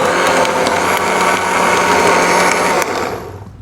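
Blender grinding coconut with a little water, a loud continuous whirring motor roar with a steady high whine that holds for a few seconds and then cuts off and winds down.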